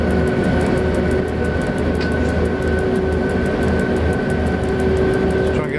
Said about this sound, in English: Just try and get this train going as fast as I possibly can.